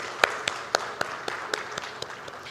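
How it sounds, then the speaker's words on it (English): Sparse, evenly paced claps ring out from a small audience at a lecture at The Lalit Mumbai, about four crisp claps per second, fading slightly over a quiet room. "a big round of applause for Votive and Ishre coming together on one platform"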